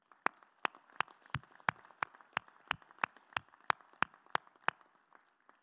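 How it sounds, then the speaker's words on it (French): A few people clap for the winners at a community council meeting in Normandy, producing sparse, distinct, evenly spaced claps that ring out quietly in an otherwise still room. "On peut peut-être applaudir"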